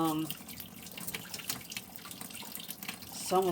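Opal chunk from a polka dot agate mine rinsed under a running tap, a steady splashing stream with brief voice-like tonal sounds at the start and end.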